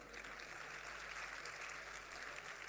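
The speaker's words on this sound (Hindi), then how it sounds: "अच्छा लग रहा था, ताली वाली बजाइए।" An audience at a comedy evening during the Kanpur Dehat Mahotsav breaks into applause, a soft, even patter of clapping from a crowd heard at a distance, with no talk over it.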